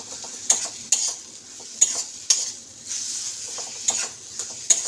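A tomato and spice masala is stir-fried in a pan, with a soft steady sizzle broken by a spatula scraping and clinking against the metal several times in an irregular rhythm, close and clear.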